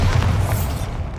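A Bombarda spell in Hogwarts Legacy goes off as a single loud, deep boom, close and heavy, rumbling briefly before fading out.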